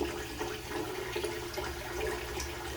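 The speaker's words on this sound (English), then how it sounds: "So, wet the hands and rinse off and get pass 2." Water runs steadily from a tap as hands are wetted and rinsed at a sink during a shave, a close, continuous splashing hiss with small fluctuations and no speech.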